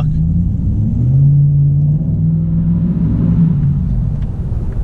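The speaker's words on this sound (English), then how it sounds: "This is gonna be my last drive through the parking structure, my last drive home in the truck." A Ram pickup truck rolls through a parking structure, its engine a low, steady rumble that swells slightly mid-way, close and continuous with no talking.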